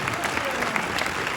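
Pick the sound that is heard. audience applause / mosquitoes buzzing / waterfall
audience applause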